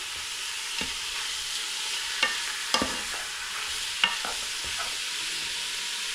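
Top sirloin searing in a little oil in a soup pot, a continuous hissing sizzle with occasional sharp clicks and scrapes of stirring, close and steady with no voices.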